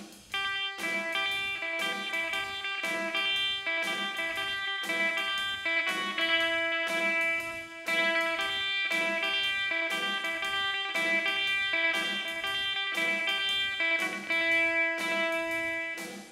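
The intro to a song rings out on electric guitar. Bright notes and strummed chords repeat in a steady, even rhythm for about sixteen seconds, clear and without any talking.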